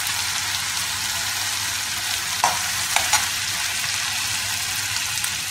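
Cumin and green chilies crackle in hot oil in a kadai while chole cooks, a steady close sizzle with a few sharp pops and spoon clicks.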